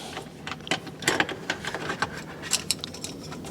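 Ratchet with a 1/4-inch socket backing out a screw on a KitchenAid KUIX335HPS01 icemaker, a quick run of faint, close metallic clicks in an uneven rhythm against a quiet room.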